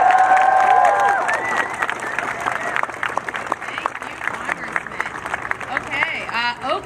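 A large crowd at a San Francisco science march cheers and claps outdoors, a loud wash of applause and shouts that slowly fades as a voice begins speaking over it.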